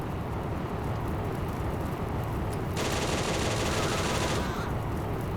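Combat in the Steel Fury tank simulator around a T-50 tank: a sustained, rattling burst of automatic gunfire rides over a constant loud engine and battlefield rumble, lasting a couple of seconds before fading back into the drone.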